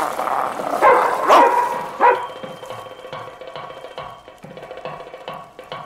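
Dogs bark near a village, several sharp barks close together at first and then a run of quieter, farther yips and barks, with no voices.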